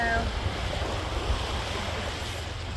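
Ocean surf washes steadily against the shore, a broad continuous rush with low rumbling and wind buffeting the microphone, close and fairly loud with no clear voices.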